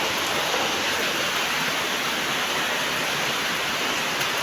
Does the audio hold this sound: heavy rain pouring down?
yes